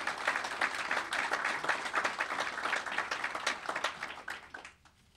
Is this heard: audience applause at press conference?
yes